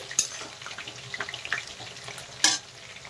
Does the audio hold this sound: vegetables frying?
yes